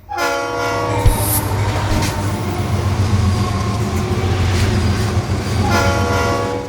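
A loud train near Chalakudy railway station rumbles along nearby, its horn blaring at the start and sounding again near the end over the heavy rolling noise.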